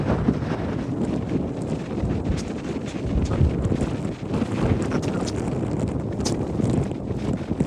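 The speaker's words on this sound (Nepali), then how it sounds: "मजाको हावा चलेको छ है, एकदम विन्डी छ" Strong winter wind buffets the microphone continuously on a walking trail in Majjistral Nature and History Park, a dense roaring rush with no letup, no voices heard.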